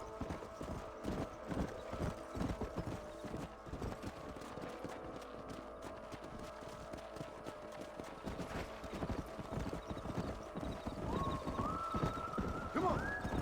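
Horse hooves clip-clopping steadily in Red Dead Redemption, a quick continuous trotting rhythm under low ambient game sound, with a short whinny rising near the end.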